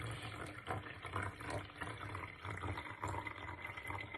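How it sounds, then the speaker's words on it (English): Water is poured steadily into a bottle during a filling and measuring activity, a close, continuous gurgling fill at moderate level with a softly fluctuating splash. "So you pour, pour, pour, and when we're getting close to the line, you have to be really careful."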